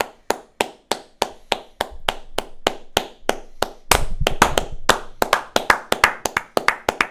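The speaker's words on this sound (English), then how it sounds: "We'll give you a round of applause while Tony G's giving us a round of applause." A single person claps at an irregular pace, sharp close claps standing alone with a brief denser burst near the middle.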